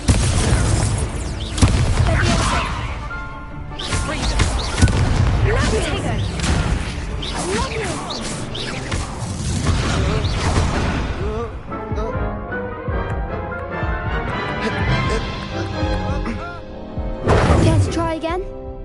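A Confringo explosive spell in a video game goes off as several heavy, booming blasts with whooshes and crashes, loud and close, spread across a long stretch of game sound with voices talking in between.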